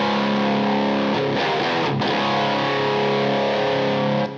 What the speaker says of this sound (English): with the gain cranked all the way up and a pretty heavy distortion pedal